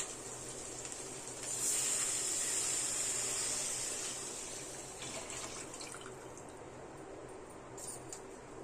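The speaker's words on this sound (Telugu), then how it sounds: "ఇప్పుడు మనం ముందుగా తీసి పెట్టుకున్న కొబ్బరి పాలు ఇందులో పోద్దామండి." Coconut milk is poured into a cooking pot on the stove in a soft, continuous liquid rush lasting a couple of seconds. Quiet kitchen background and a few faint clinks follow.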